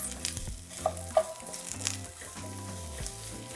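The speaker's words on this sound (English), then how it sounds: "Once the butter has melted, we're going to add half of the onion. We're going to saute for 2 minutes." Onion sautéing in melted butter in a pan, a continuous close sizzle with light stirring scrapes and a few sharp pops.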